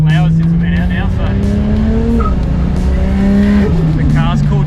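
An LS turbo car cruises and skates around the Winton race track at Supernats, its engine a loud, steady drone with tires squealing over it, heard close up the whole time.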